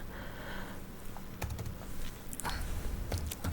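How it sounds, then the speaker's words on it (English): Computer keyboard keys are tapped in short irregular bursts while entering a value into an Excel spreadsheet, soft close clicks over a quiet room hum with no talking. "So let's type some value."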